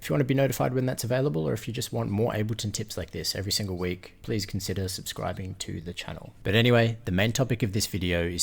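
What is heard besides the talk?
No everyday noises stand out.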